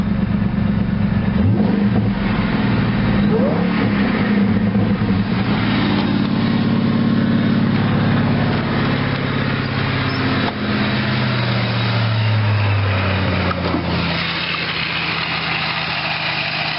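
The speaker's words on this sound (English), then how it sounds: "it still makes some cool supercharger sounds" A small 281 V8 with a supercharger runs continuously, idling with a deep rumble and rising into revs, a faint supercharger whine riding on top; no voices.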